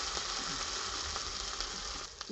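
Spice masala for a crab curry fries in oil, giving a dense, steady, close sizzle that holds evenly throughout with no talk.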